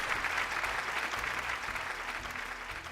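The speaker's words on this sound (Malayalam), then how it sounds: "നല്ല ഒരു കൈയടി കൊടുത്തേ" Studio audience applauding a contestant on a Malayalam television game show, a steady dense clatter of many hands that holds for nearly three seconds at even loudness, with faint low tones from music underneath.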